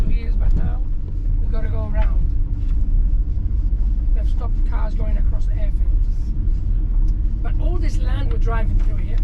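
A car drives through Gibraltar across reclaimed land, giving a steady, close engine and road rumble for the whole stretch while someone talks over it.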